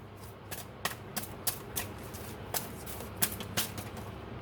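Tarot cards shuffled and drawn by hand, a steady series of crisp riffling snaps and slaps, close and fairly quiet, with no talking.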